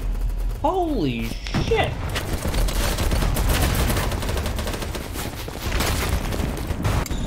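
Pistol gunshots from BattleBit Remastered ring out in a dense, loud fusillade of repeated cracks, with a man's exclamation over the opening shots.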